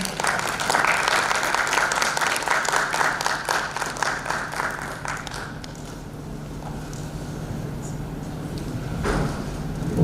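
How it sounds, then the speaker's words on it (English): An audience at a literature festival gives dense, loud applause for several seconds, then the clapping thins out and fades into scattered claps and room noise. "Maybe have a huge round of applause for all of them."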